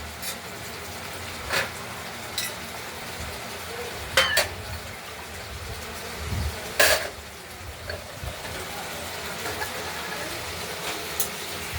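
Spice paste for a katla fish curry with potatoes, sautéed in oil and stirred, makes a low continuous sizzle. A spoon scrapes and clanks against the pot several times, with no one talking.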